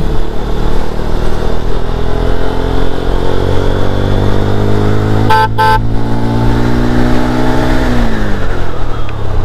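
A GPX Demon GR 165 RR motorcycle engine drones loudly and climbs in pitch as it accelerates, dropping and rising again with a gear change; a short horn blast sounds midway.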